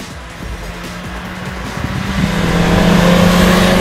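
A new Honda Civic accelerating hard from about 2,000 rpm, its engine note rising steadily in pitch and loudness as the revs climb, heard from inside the car with no talk.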